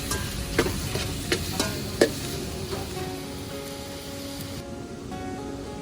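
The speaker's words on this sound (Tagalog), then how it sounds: "nagpiprito na din po kami ng tuyo" Dried fish (tuyo) fries in a pan with a steady sizzle, broken by several sharp clinks and scrapes of a utensil early on before the sizzling carries on alone.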